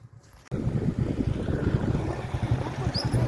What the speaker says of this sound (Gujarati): અમે જુઓ બાઇક ઉપર હેડ્યા છીએ